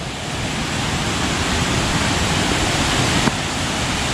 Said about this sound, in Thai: เสียงน้ำตกเริ่มชัดขึ้นเรื่อย ๆ